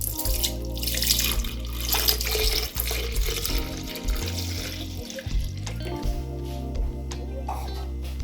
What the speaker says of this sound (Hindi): सबसे पहले आपने डालना है मिल्क